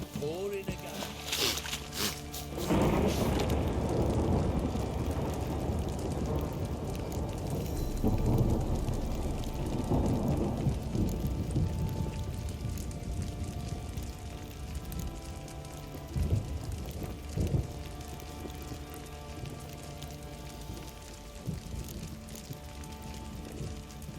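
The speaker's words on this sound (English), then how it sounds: "It's ploughing, pouring again." Heavy rain pours steadily in the Witcher 3 video game, with a loud thunderclap early on and more rolling thunder through the downpour.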